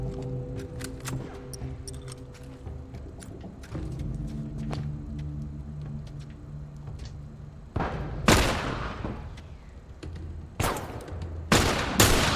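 Gunfire in The Last of Us video game: scattered shots and loud bursts crack out over low background noise, growing heavier and closer toward the end.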